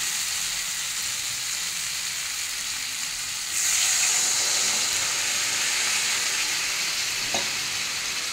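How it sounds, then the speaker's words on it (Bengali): A loud, steady sizzle of oil and fried spice paste for a Bengali bata fish curry jumps sharply when water is poured into the pan, then keeps hissing evenly. There is one faint clink near the end. "এবার আমি একটু জল দিয়ে দেবো।"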